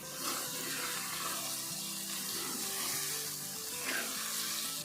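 Chicken with ground masala frying in a kadhai for an Irani chicken dish: a continuous loud sizzle with occasional stirring clatter, no voices.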